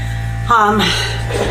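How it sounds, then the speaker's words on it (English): A resin vacuum degasser hums with a steady low mechanical drone continuously while a person speaks briefly over it. "That's my degasser doing the next set"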